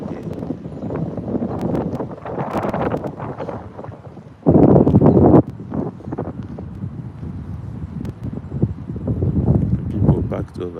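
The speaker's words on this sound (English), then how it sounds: "So windy." Wind gusts buffet a microphone outdoors in an open park near a road, a steady rushing roar with one loud burst midway and voices murmuring underneath.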